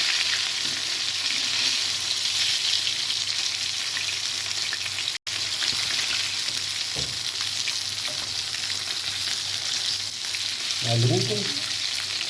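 Fish (المحرات) sizzles steadily in hot frying oil, a dense continuous crackle throughout with a brief clatter of a piece being turned near the end.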